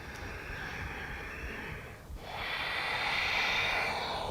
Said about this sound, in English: Take a couple more with the sound of your breath guiding the way